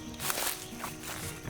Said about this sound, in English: From behind you, down the path, you hear the sound of footsteps